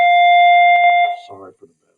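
A bell tone rings out loud and steady, holding a pure ringing pitch with overtones for over a second, then breaks off into brief speech-like fragments and fades.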